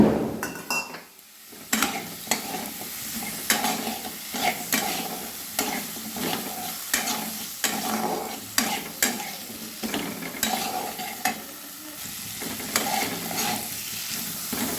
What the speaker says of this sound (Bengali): আলুগুলো একটু ভালোভাবে আমি কষিয়ে নেবো